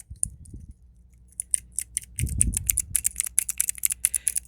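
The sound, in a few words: someone typing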